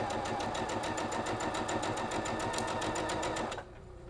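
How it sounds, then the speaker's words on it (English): A sewing machine fitted with a quarter-inch foot stitches a straight quarter-inch seam on a sawtooth star quilt block, running steadily at an even rapid pulse close by before stopping abruptly near the end. "You just go straight to your sewing machine and we're just going to stitch with a quarter inch seam all the way down"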